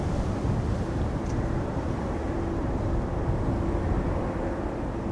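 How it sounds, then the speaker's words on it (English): An EasyJet Airbus A319 arriving at Amsterdam Schiphol from Copenhagen in windy weather, a continuous broad engine roar with a faint steady whine, buffeted by wind noise on the microphone. "Next up is an EasyJet A319 arriving from Copenhagen"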